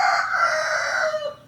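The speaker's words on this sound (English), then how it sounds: "It's a loud chicken. He's really close by." A rooster crows loudly and very close, one long sustained cock-a-doodle-doo that fades at the end, heard alone without talk.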